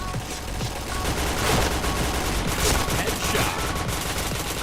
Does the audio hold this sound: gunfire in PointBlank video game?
yes